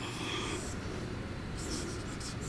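Writing on a board during an electrical engineering lecture on rotating machines, a continuous scratchy scraping of strokes over a steady background hum, with no one speaking.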